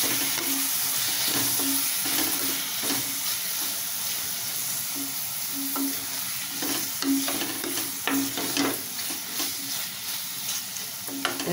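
Four medium chopped tomatoes sauté with onions in a pan for a Tamil chickpea kuzhambu, giving a steady close sizzle with rhythmic stirring scrapes and occasional crackles throughout.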